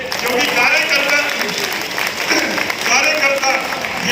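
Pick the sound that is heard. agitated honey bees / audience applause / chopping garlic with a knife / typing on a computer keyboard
audience applause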